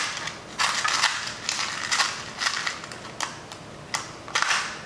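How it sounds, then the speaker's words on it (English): A small brad is fastened into a paracord-wrapped award paddle, making a series of about seven sharp, crunchy clicks and taps at uneven intervals, close and fairly loud, with no voices. "I'll put another brad in it."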